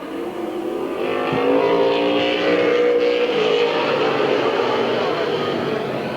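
Race cars roaring around Midvale Speedway, a dirt-track style oval event, with a steady dense engine drone from several cars at a distance and a rising whine passing through.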